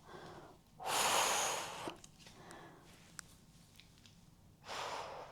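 Strong breathing during a Pilates upper-body resistance band exercise: two loud, airy exhales a few seconds apart, close to the mic, with quiet breaths between them.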